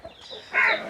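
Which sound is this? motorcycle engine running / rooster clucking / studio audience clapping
rooster clucking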